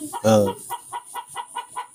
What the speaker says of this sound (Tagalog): Anong ingay naman ng manok na yun?